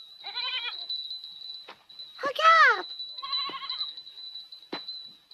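A herd of goats bleats in several short, wavering cries, one louder and closer than the rest, with a brief spoken word among them and a steady high tone running underneath.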